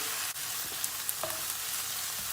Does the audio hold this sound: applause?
no